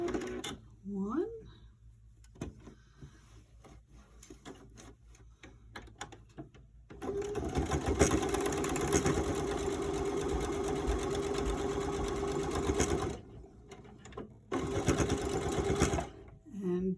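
Sewing machine stitching a fabric face mask, loud fast mechanical whirring in long runs with short pauses between bursts for backstitching, and a voice speaking quietly during the opening seconds.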